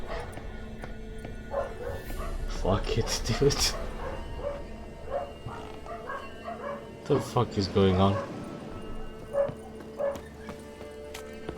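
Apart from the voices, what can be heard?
neighbourhood dogs barking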